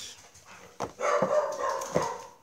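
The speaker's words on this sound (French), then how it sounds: "les chiens s'excitent et mon chien Léo aussi" Several excited dogs, including one named Léo, bark in quick bursts indoors, a couple of sharp yaps standing out over a busy, agitated background of yips and whines.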